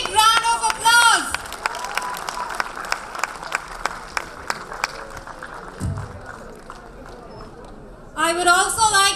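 An audience claps and applauds at a student jewellery design fashion show, a steady sustained round of clapping with scattered cheers, framed by a host speaking at the start and end.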